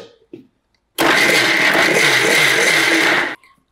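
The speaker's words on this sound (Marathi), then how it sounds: "आता हे ना जितकं शक्य असेल तितकं बारीक दळून घ्यायचं" Mixer grinder whirring loudly as it grinds soaked wheat in plenty of water, a steady motor roar that starts abruptly and runs for over two seconds before cutting off.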